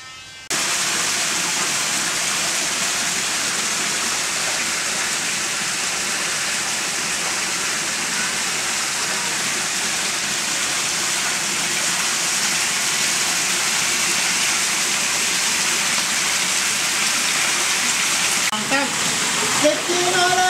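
Garden waterfall beside a pool at a home, running as a steady, loud, broadband rush of falling water that holds for the whole stretch, with no talking over it.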